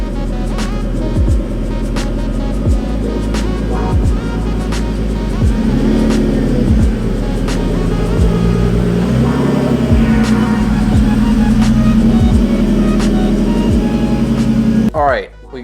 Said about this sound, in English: let's pull this thing into the garage, get it lifted up, get those wheels off